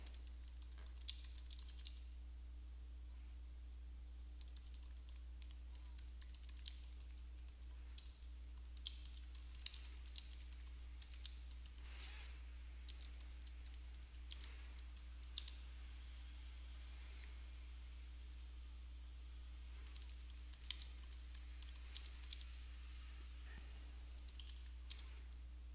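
Someone types a sentence on a computer keyboard, with quick bursts of light key clicks and short pauses, faint and close over a steady low electrical hum.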